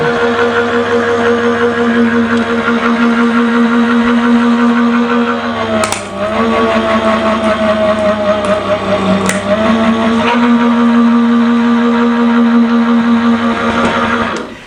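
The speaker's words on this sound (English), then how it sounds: "that cracking noise that you heard is perfectly normal, and it's just because this is going through into the plastic" Die cutting machine pressing a metal die through a plastic shim on a crafting plate, a steady mechanical hum with two sharp cracking snaps partway through.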